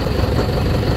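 A river boat engine idles on the Hàm Luông River in Vietnam's Mekong Delta, a steady loud low rumble with constant vibration and no talk over it.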